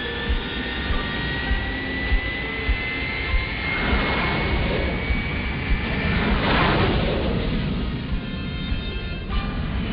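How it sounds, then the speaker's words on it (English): Veritech fighter jet engines from the Robotech animated series roar in a sustained, broad rushing whine with a thin high tone, swelling midway and holding steady with no voices. "Those Veritech fighter engines are built on a reactor design."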